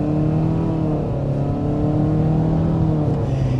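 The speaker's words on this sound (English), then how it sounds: "you do have a shift simulation on board when you accelerate hard" A 2026 Mitsubishi Outlander with a CVT accelerates hard, its engine drone rising steadily in pitch with simulated shift steps, heard loud and close from inside the cabin with no talking.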